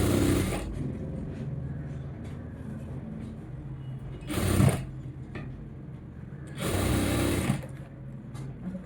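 A sewing machine stitching fabric runs in three loud whirring bursts, the first and last longer, separated by quieter gaps where someone speaks.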